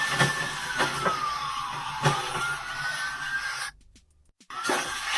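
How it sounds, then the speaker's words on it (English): Police sirens wailing at a distance with a slowly falling tone, under rubbing and scraping handling noise close by, the sound dropping out briefly near the end before returning. "you can hear the sirens going off"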